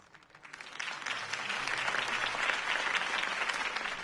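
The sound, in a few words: crowd applauding after a mayoral campaign speech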